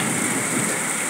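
A brief stretch of heavy rain in Pune during a thunderstorm, heard from a window as a continuous loud, even wash of noise.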